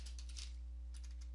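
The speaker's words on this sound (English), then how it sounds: "You want to type default" A brief, quiet burst of typing on a computer keyboard: a few soft key clicks over a steady electrical hum, with no voice.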